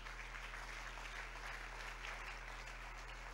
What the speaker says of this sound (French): Est-ce qu'on peut acclamer pour dire merci à Dieu?